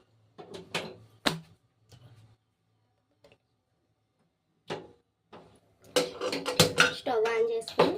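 A metal kadai is set on a lit stove while tempering for a grated mango pickle is prepared, giving a few sharp, close clanks and knocks spread across the stretch, then a busier burst of clatter.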